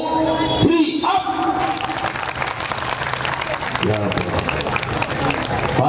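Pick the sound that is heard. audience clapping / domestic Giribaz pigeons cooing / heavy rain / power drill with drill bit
audience clapping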